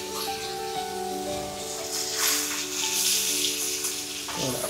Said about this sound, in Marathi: गाबोली कडक चिवण्यांचा कालवण आणि चिवणी तवा फ्राय.